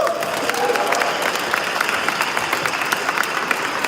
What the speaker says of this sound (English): The applause does get good, it does.